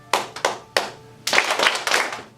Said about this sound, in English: I'll clap 3 times, and then you'll repeat with a clap 3 times